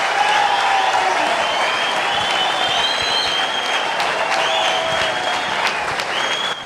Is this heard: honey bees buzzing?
no